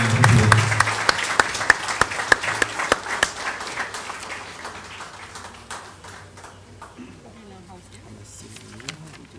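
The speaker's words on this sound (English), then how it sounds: "Give her a round of applause." A graduation ceremony audience claps for a sportswoman, starting with loud, distinct hand claps that gradually thin out and fade into scattered claps and a quiet room.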